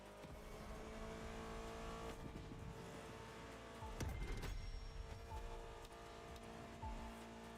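A 1970 Dodge Challenger in a racing video game revs and squeals its tires, a continuous engine drone with a sharp burst of acceleration and skidding midway, quiet and without talk.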